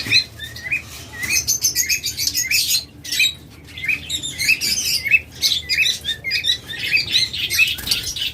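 Yellow-collared lovebirds in a cage at a bird sale, giving a steady stream of high, bright chirps and squeaks with bursts of wing flapping, busy and fairly close throughout.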